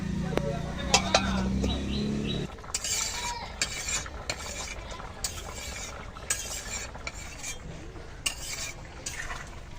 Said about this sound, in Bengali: ভালো করে নেড়ে নেড়ে মিশিয়ে নিলাম।